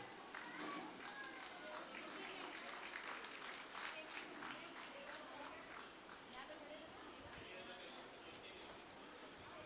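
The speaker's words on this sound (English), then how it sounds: "Let us welcome our nursery girls performers with a big round of applause" Audience applause greets nursery girl performers at a school Independence Day celebration, a distant, faint wash of clapping that holds steady throughout, with some murmuring and stage noise mixed in.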